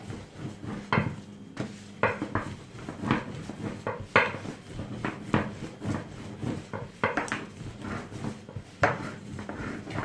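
Bazlama dough being rolled out by hand on a wooden surface, with a steady series of soft knocks, rubs and light clatters of the rolling pin, close and fairly loud, no talking.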